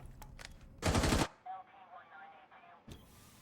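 Blind machine-gun fire in a video game: one short, loud, rapid burst of shots, followed by quieter scattered game sounds and a last sharp crack.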